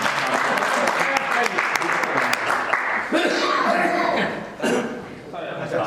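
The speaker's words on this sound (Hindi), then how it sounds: "बजाओ ताली साहब।" Audience applause at a school event, a dense wash of clapping under a voice and some chuckling, fading toward the end.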